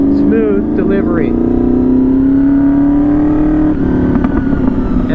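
Honda VFR 800 V4 four-cylinder motorcycle engine humming steadily and smoothly while riding, a continuous loud drone with a slight rise in pitch and a brief shift near the end.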